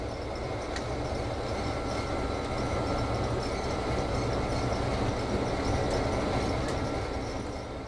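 A loaded White Pass narrow gauge train climbs a steep mountain grade in a steady, dense rumble of engine and wheels that holds evenly throughout, with faint metallic tones riding on top and no voices.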